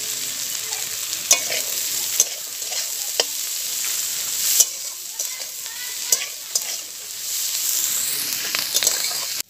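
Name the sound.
chopped onion stir-fried with yardlong beans and capsicum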